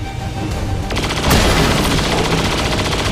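Gunfire in the XCOM 2 video game: a loud burst of rapid automatic shots with a heavy boom partway through, the rattling echo trailing off afterward, close and dominant.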